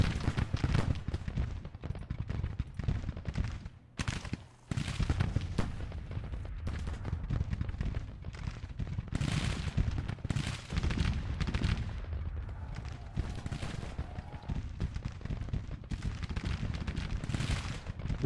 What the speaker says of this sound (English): Ah, the guns are finally firing.